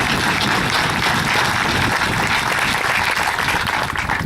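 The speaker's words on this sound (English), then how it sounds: "We really want to give all these folks a round of applause." Sustained, full applause from an audience at a community economic development gathering, loud and close with no break.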